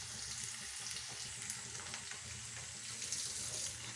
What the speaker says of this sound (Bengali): পনিরটাকে আমি বেশি ভাজবো না, অল্প করেই ভেজেছি